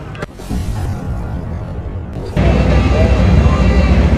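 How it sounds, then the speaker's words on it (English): Hot rods pull away from a car show, a loud, close engine rumble that jumps in level partway through and keeps droning steadily, with a brief quieter stretch before it. "Some of the hot rods are leaving, so I do apologize for the noise."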